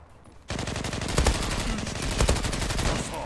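Rapid automatic gunfire from the online shooter Zula on the disco map, bursting in loudly after a brief quiet start and continuing as dense, repeated shots with sharp individual cracks, no voices.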